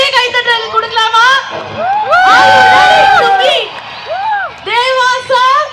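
A large concert crowd cheers, whoops and shouts loudly and close, in continuous swelling waves, while an announcer's amplified voice talks over it through much of the stretch.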